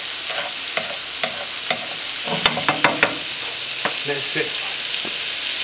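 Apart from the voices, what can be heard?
steak frying in a pan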